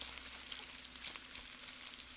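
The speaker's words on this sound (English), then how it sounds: "Listen to that sizzle." Bacon frying in a pan for ham fried rice, giving a steady, close crackling sizzle with fine popping spatters throughout, quiet and unbroken.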